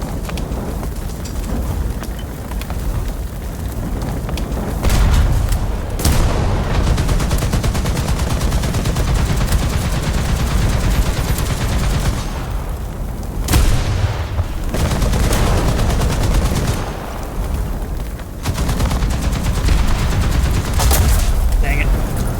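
Heavy .50 cal machine gun bursts in War Thunder, loud and sustained, with dense rapid firing that breaks off in brief gaps; speech occasionally mixes in with the gunfire.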